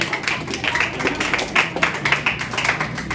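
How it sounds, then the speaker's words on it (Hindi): An audience at a stage show claps in welcome, a dense run of quick, close hand claps at an even level throughout, with no speech over it. "जोरदार तालियां तो बजाएगा।"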